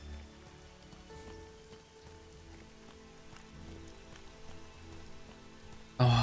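Steady rain patters across the surfaces of the Elex game world, a continuous hiss with no voices, ending in a sudden loud burst in the last moments.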